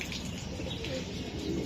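A racing pigeon being handled at a sale gives soft, low, repeated cooing, close and continuous through the short moment with no talking.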